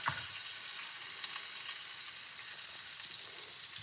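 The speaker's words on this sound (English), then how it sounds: "Oh no, I got one fish over here. Oh no. Oh my goodness. Let me just fry it over here." Fish fries in hot oil in a small pot, giving a steady, dense sizzle that holds at even loudness throughout with faint crackles and no talk.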